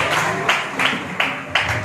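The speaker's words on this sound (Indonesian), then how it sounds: "Tepuk tangan buat Tuhan kita." A congregation applauds during a school worship service, dense clapping that swells in roughly rhythmic bursts at close range, with a voice faintly present underneath.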